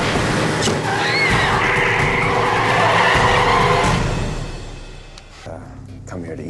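Car tires skidding and squealing loudly during a tense scene in a vampire drama, a sustained screech under an engine roar that fades toward the end, with shouting voices mixed in.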